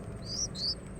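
Nestling birds in a nest beg for food with two faint, high chirps in quick succession over a soft, steady background hum.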